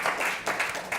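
An audience claps briefly, a short patter of scattered hand claps at moderate distance, with no voices over it.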